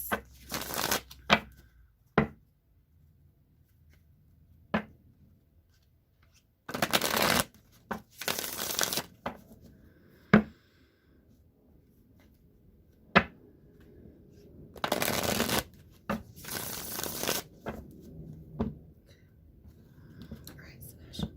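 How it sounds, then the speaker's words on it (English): A Deviant Moon tarot deck is shuffled in several quick riffling bursts separated by quiet gaps, with soft taps and card clicks between them, close and crisp, alongside faint low talk. "Now I'm going to shuffle the Deviant Moon real quick."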